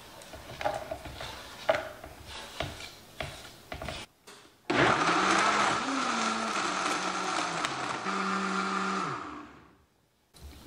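Some tapping and clatter, then a blender roars loudly for several seconds blending Parmesan cheese with other ingredients, its pitch shifting as it churns before cutting off.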